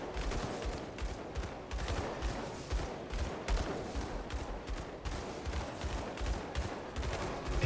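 Gunfire in Grim Dawn, repeated shots fired at maximum range in quick succession, a dense run of bursts over game sounds at moderate loudness.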